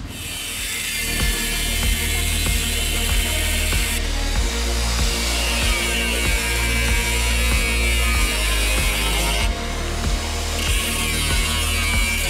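A power tool cuts a large sheet of steel while an air compressor runs steadily underneath, during repair of the chassis rails of a Toyota Hiace 4x4; loud, continuous grinding with regular rhythmic knocks and bursts of high hiss throughout.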